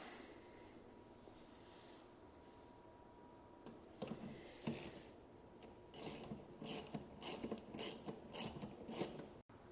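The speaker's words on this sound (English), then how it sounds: "we're going to come in and get those tightened down" Seat bracket bolts for Corbeau seats in a Nissan 300ZX Z31 are tightened with a ratchet, quiet at first, then rapid clicking bursts in quick repeated strokes, close up and without speech.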